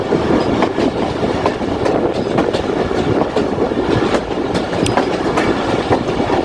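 The Jaffar Express rolls into Kolpur railway station with a loud, continuous rumble of wheels on track and rhythmic clicking from the rail joints, close and steady throughout.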